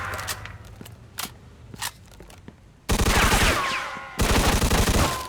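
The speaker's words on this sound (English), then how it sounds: "I can shoot there." Gunfire in Mafia 2: scattered single shots at first, then two dense bursts of rapid automatic fire with crunching impacts, loud and close.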